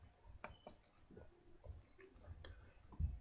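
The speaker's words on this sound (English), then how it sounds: "you click on that and you click this little button here" Mouse button clicks on a computer while using Skype: several sharp, quiet clicks scattered irregularly over a few seconds, with low background rumble and no speech.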